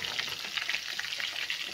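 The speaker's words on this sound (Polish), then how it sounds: "O, to są piersi z kurczaka. Muszę ugotować, usmażyć." Chicken breasts frying in a pan on a home stove, a steady dense sizzle with crackling pops running throughout, close and fairly even in level, with no talking.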